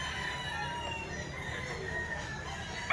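A prized rooster for sale, a golden boy sweater breed, crows clearly and steadily across the whole stretch at close range, with a sharp louder note at the very end and no talk over it.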